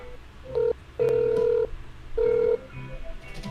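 An outgoing phone call plays over a speakerphone, with steady electronic ringback tones in three evenly spaced pulses, loud and close, and faint background noise between them.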